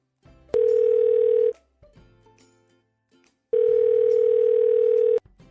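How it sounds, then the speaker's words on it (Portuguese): A telephone line tone while a call is being placed: two long, steady, loud electronic tones, each about a second or more, separated by a short pause with faint background noise. "vamos ligar pro Guga e ver que história ele tem pra contar pra gente."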